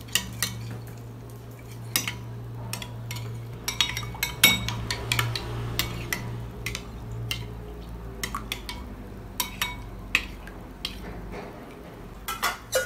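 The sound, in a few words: stirring a cream mixture with fresh milk in a bowl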